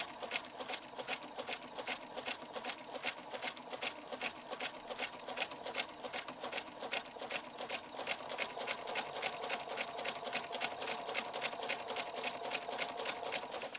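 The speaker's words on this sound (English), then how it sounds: "Stitching slowly at first, and then just allowing it to pick up some speed." A sewing machine stitches a boning channel on a corset panel. Its rapid, steady needle chatter starts slowly and gradually picks up speed, heard close and continuous without any voices.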